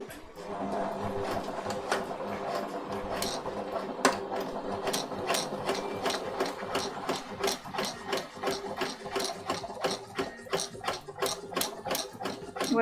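Sewing machine stitching a collar seam, a steady close mechanical whir with rapid regular needle ticks that hold through the whole stretch, with no speech.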